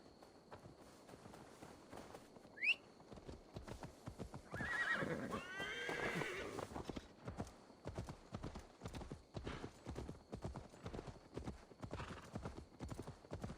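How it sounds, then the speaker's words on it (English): Steady clip-clop of hooves walking, with a horse whinnying loudly midway, all against a busy outdoor soundscape in the video game Assassin's Creed Valhalla. "Now to deliver Magni his horse."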